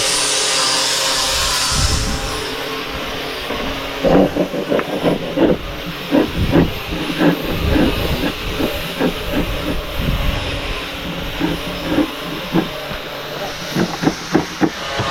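Light, rhythmic scraping of fine sandpaper rubbed over a wooden table, with a steady hiss and repeated short strokes, close by and fairly quiet.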